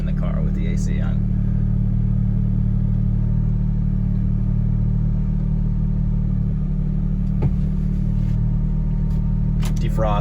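A 1997 Suzuki Alto kei car's small engine drones steadily and loud throughout with the AC on, with a faint rise in revs; brief voices appear at the start and end.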